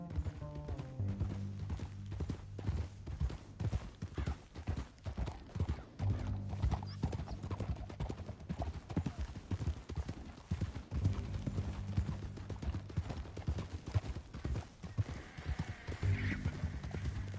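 Horse hooves clip-clopping in Red Dead Redemption 2, a rhythmic run of hoofbeats across a canyon trail with occasional neighs and whinnies, loud and continuous under a faint music bed.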